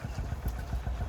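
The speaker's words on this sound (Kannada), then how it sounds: "ಜೋಗಿ ಮನೆ ಹತ್ರ ಏನೋ ಫುಲ್ ಗಾಡಿ ಓಡಿಸ್ತಾ ಇದೆಯಾ?" A motor vehicle engine runs close by, probably a motorbike, with a steady low throbbing pulse and even loudness throughout the short stretch.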